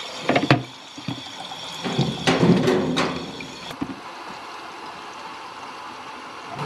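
Water runs into house water filters as they are filled, a steady close gushing stream with a few louder splashes and knocks early on, then settling into an even flow.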